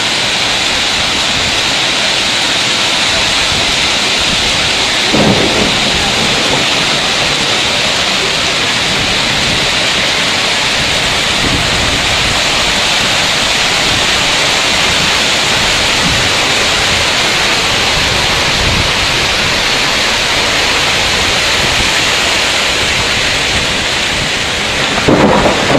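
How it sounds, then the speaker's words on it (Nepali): A hailstorm in Kurseong, Darjeeling, brings a dense, loud, continuous roar of heavy rain and hail hitting surfaces, with a couple of low thunder rumbles rolling through. No voices are heard. "असिनाको साथमा बरफ परेर पानी परिरहेको छ।"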